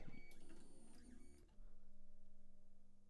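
A cheap 3D printer runs at close range, its stepper motors buzzing and whirring in pulsing tones that change pitch midway before settling into a steady hum.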